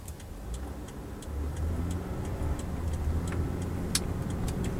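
A 2008 Lexus IS engine drones steadily from inside the cabin on a test drive, its low hum swelling slightly as the car pulls, with faint ticking over the top and no voices.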